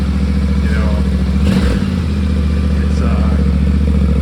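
A Yamaha Tenere 700 motorcycle with a factory exhaust idles steadily with a throaty, pulsing exhaust note, loud and close, with a brief rev in the middle.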